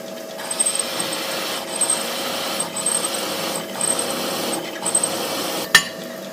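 A countersinking cutter with a 10 mm pilot bites into an 11 mm hole on a prototype holder, giving a steady low machine hum with intermittent scraping, rasping bursts and a sharp click near the end.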